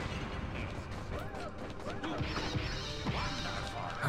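Objects shatter repeatedly in the video game Wario World, with several crashing and whacking impacts over dense game music and effects, and a voice partly audible beneath.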